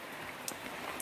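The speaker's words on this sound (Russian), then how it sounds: "Видите, какой у нас ливень." Heavy rain downpour outdoors, a steady dense hiss of falling water with a few louder drop impacts, close and continuous with no talking.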